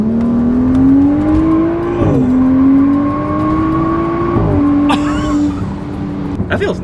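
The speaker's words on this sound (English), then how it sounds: "Oh, dude, I forgot how loud those intakes were." A BMW 335 with an N55 engine and loud intakes and exhaust accelerates hard, its close, droning engine note climbing through gears with two clear shift dips, and brief voices at the end.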